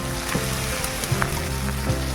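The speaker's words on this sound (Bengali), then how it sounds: "চিংড়ি মাছগুলো দিয়ে ভালোভাবে ভাজা ভাজা মতো করে নেব" Shrimp fry in a pan with onion and chilli in a village kitchen, giving a loud, steady, close sizzle with small crackles and pops and no talking.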